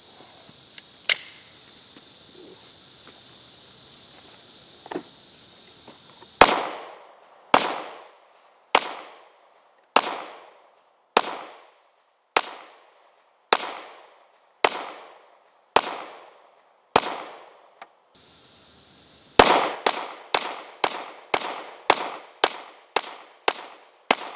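An FNX-40 .40 caliber pistol fires a long series of sharp, loud shots, first spaced about a second apart, then a quicker burst of rapid shots near the end, each with a short echoing tail.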